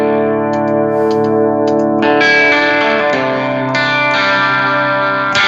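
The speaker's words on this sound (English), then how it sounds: "That's guitar and amp." Electric guitar played through an amp with a little delay and reverb, sustained chords and ringing notes, loud and steady throughout with no talking.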